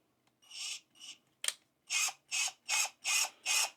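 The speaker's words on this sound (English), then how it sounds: "now we want to go ahead and drive a screw through it" Sundpey 21V cordless drill set to low torque driving a screw, heard as a series of five or six short, evenly spaced ratcheting bursts, close and fairly loud, preceded by a couple of softer whirs and a click.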